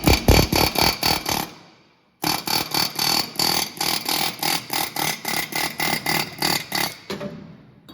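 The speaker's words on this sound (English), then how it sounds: "we'll see if we can come out with the air hammer." An air hammer rattles in rapid, loud bursts of repeated metallic strikes during a feed trailer repair, stopping briefly before hammering again in a steady rhythm.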